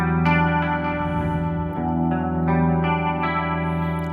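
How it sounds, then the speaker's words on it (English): Electric guitar strummed with a pick through an extreme chorus effect, giving a wide, shimmering, warbling tone; a few steady chords ring out close and loud with no talking. "this really gives you the extreme chorus sound"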